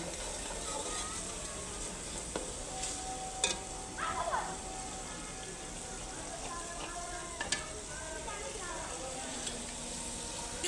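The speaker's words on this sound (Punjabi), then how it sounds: "ਮਸਾਲਾ ਤਕਰੀਬਨ ਤਿਆਰ ਹੋ ਗਿਆ, ਭਿੰਡੀਆਂ ਪਾ ਦਿੰਦੀ ਹਾਂ।" Okra hitting hot spice masala in a village kitchen, giving a soft, steady sizzle with occasional clinks and scrapes of stirring, fairly quiet and close with no speech.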